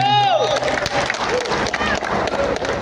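A crowd at an Indonesian political party cadre event applauds the party chairman and secretary general, with loud, dense clapping and cheering amid crowd noise, and a brief voice or tone at the start.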